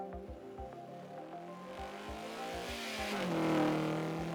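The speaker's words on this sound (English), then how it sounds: "The car has a speaker object attached to it that's playing a constant car sound" A rendered car sound effect in Blender passes the camera: a steady, harmonic engine drone with rhythmic thumps that rises and then drops in pitch as it goes by, loud and alone.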